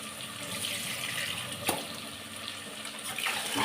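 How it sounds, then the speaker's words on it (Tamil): Rice being washed in water for coconut milk rice, with a steady close sloshing and trickling of water and a brief splash midway, no talking. "அதில் அரிசியை கழுவிடலாம்."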